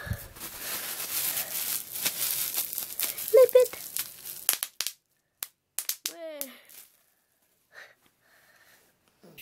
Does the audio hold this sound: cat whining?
no